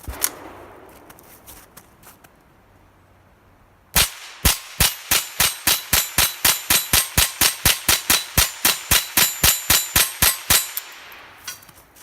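Rapid string of roughly twenty-five sharp gunshots fired at a target through a red dot sight, evenly spaced and loud after a quiet opening, with no talk.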